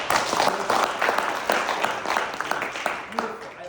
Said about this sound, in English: Genuinely, another round of applause.